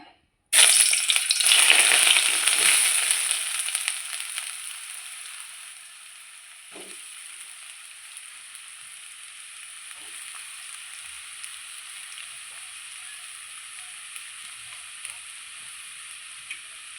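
Onions and tomatoes frying in oil give a loud, bright sizzle that bursts up at once, then settles to a softer steady crackle with faint stirring clicks, and no voices.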